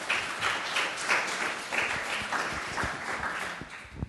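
Conference audience at an STD-AIDS meeting applauds steadily, a moderately loud, even wash of many hands clapping at once from start to finish.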